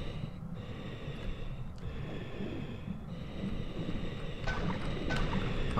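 Slow, heavy breathing drifts through a dark underwater level of Tomb Raider II aboard the Maria Doria wreck, steady and murky under a low watery rumble, with a few faint clicks and swells toward the end.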